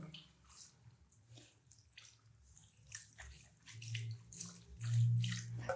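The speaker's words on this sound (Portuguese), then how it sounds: "Primeiramente eu vou molhar esse cabelo" Water runs over curly hair at a salon wash basin, a soft splashing, trickling flow that swells and gurgles toward the end, fairly close with no talking.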